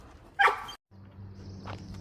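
Dogs bark by the water in a wooded area, a sharp close burst early on, then a pause, followed by a steady low rumble and a fainter distant yelp.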